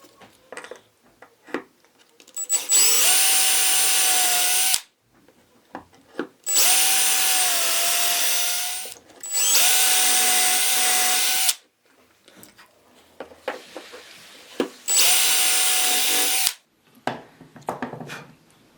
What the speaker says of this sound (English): I'm going to drill straight through these holes